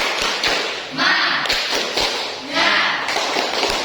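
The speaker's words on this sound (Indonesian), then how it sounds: "Tepuk semangat." A school class performs a rhythmic clapping routine, sharp unison claps and taps in a patterned beat, with voices chanting along between the claps.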